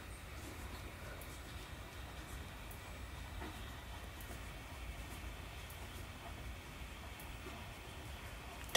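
A Class 755 train runs on the Rosworth Vale route in the Trainz Simulator 3 game. A faint, steady rumble of rolling wheels carries on under soft track clatter, with no speech.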